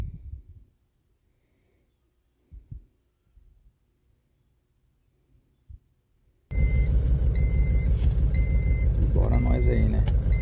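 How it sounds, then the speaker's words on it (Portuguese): A truck's engine suddenly starts and runs at a loud, steady rumble before dawn, joined by repeated beeping, after near-silence broken by a few faint knocks and clatters. "Acelerando o caminhão aí."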